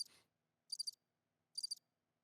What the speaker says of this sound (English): Those are crickets, not moths.